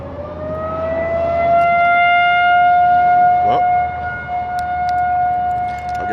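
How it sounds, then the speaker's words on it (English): A civil defense–style siren wails across a Minnesota lake during smallmouth bass fishing, a loud, sustained rising and steady tone that holds through the whole stretch with only faint background noise. "Toss him back, that's what that siren means."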